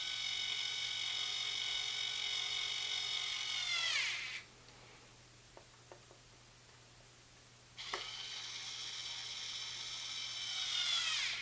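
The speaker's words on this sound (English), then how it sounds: "You'll want to seal down each one of these screws here and get them pretty tight and secure." A power screwdriver drives screws to seal down an Agrimatics Libra unit in two close whirring bursts, each winding down in pitch, separated by a quiet pause with a few small clicks.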